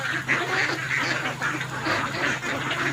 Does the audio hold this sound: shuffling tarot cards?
no